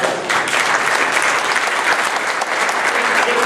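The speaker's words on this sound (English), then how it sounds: "So give a round of applause to the Consul General." Sustained applause from an audience at a Chanukah event on Beacon Hill, Boston, steady and dense throughout, with a faint murmur of crowd beneath.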